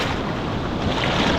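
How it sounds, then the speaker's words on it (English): Large overhead surf from a big Hawaiian swell at La Jolla, California, roars as a steady, loud wash of breaking whitewater and wind with no voices. "this is the biggest, punchiest waves I've tried"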